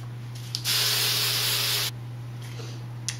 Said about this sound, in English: And then a healthy dose of hairspray.